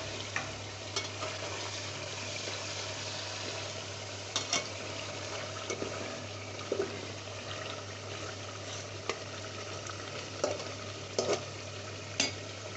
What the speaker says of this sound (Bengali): আমি কিন্তু এর মাঝে দিয়ে মাংসটা আরও 2-1 বার নেড়ে নিয়েছি খুব ভালোভাবে